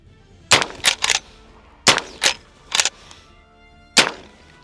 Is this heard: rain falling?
no